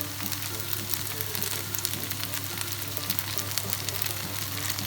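Mushrooms laid on top of gnocchi sizzle gently in a pan, a soft, even frying hiss with small crackles, steady and unhurried for the whole stretch.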